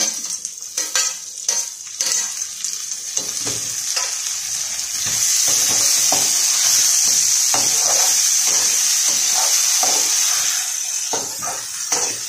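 Chopped tomatoes sautéing in a pan for poha upma give a loud, steady sizzle close up, with scraping stirs of a spatula throughout and no voices.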